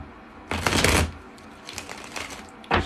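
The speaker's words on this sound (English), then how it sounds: "Shuffle the cards." A deck of tarot cards is shuffled in a close, crisp riffle, followed by softer rustling and a final short riffle at the end.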